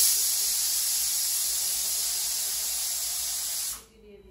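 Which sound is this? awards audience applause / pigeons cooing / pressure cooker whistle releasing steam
pressure cooker whistle releasing steam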